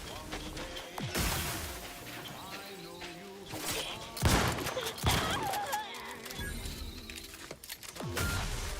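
Grenades exploding in a video game: several heavy, crashing bursts hit in close succession through the middle and latter part, over constant game noise and busy clicking, with occasional voice.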